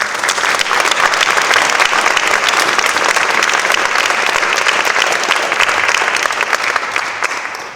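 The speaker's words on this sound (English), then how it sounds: "please join me again in giving these 6 outstanding individuals one last round of applause." A large audience at a school Hall of Fame ceremony gives six inductees a loud, sustained round of applause, dense and even throughout before easing off at the very end.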